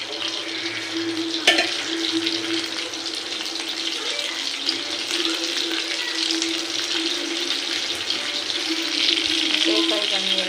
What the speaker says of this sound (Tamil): ஃப்ரை பண்ணிடலாம்